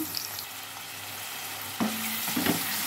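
Onions and green chillies fry with salt in a pan, a close, soft hiss of sizzling oil, then a couple of sharp scraping stirs near the end.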